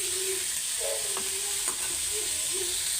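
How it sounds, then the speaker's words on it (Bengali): Mustard greens fry in oil with garlic, onion and green chilli, giving a steady close hiss of sizzling broken by a few soft stirring scrapes. "আর বেশি করে রসুন পেঁয়াজ কাঁচামরিচ দিয়ে এইভাবে সবুজ সবুজ করে রান্না নিচ্ছি তেল দিয়া"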